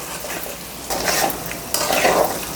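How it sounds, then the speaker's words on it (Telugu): Tomatoes are stirred into liver curry frying in a pan, with a constant close sizzle broken by two louder scraping, stirring bursts of the spoon against the pan. "ఇక టమాటాలు ఇప్పుడు తీసుకొని కొంచెం కలుపుకుంటే అడుగంటుకోదు"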